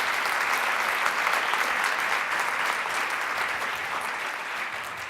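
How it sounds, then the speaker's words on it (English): An audience at a national summit gives sustained applause for funders, a dense, even clapping that holds steady and eases slightly toward the end. "Please help me, give me a round of applause for our funders."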